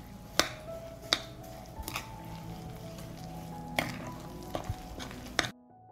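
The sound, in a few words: stirring an egg and breadcrumb mixture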